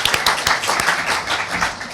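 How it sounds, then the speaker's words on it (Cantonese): Dense applause from an audience welcoming a guest at a career forum workshop, a steady wash of many hands clapping close by for about two seconds with no talk over it. "咁大家俾啲掌聲"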